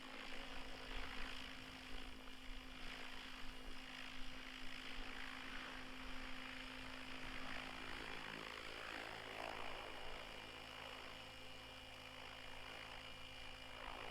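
A radio-controlled model helicopter hovers backwards and then settles in to land, its steady rotor and motor drone running continuously at moderate distance with a tonal whine, fading slightly near the end; no one speaks.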